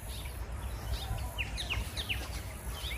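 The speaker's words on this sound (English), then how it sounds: "there's birds over there" Birds call around a resort on Fraser Island, with quick chirps and short whistles scattered over a faint background hum at moderate distance.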